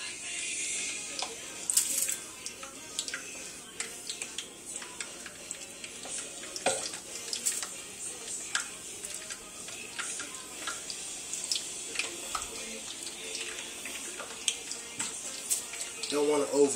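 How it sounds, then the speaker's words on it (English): Steady crackling sizzle of chicken frying in hot fat in a pot, close and fairly quiet, with scattered pops and no voices. "we're going to go ahead and drop the chicken on in the fat."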